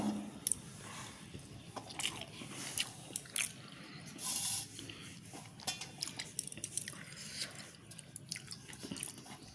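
Someone eating a meal of very hot freshly cooked rice with fried puti fish, fried potato and a sour tomato dish. Soft wet chewing, biting and squishing repeat at close range, quiet and irregular, with no talking.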